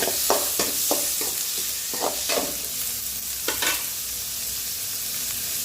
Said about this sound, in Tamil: வெங்காயம் போட்டு நல்லா வதக்கிக்கலாம்